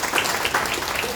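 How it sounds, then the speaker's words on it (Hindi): An audience at an indoor health workshop in Siliguri, West Bengal bursts into steady applause, a dense, even wash of many hands clapping with faint voices mixed in. "तो एक बार जोरदार ताली बजाएंगे।"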